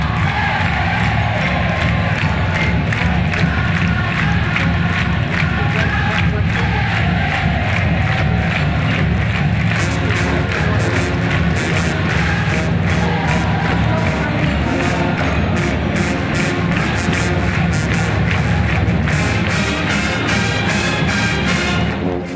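A marching band plays loud pep music from the stands at a Panthers game, with drums pounding a steady beat under brass while a crowd cheers and shouts around them for the whole stretch.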